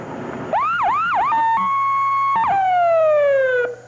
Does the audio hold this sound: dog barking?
no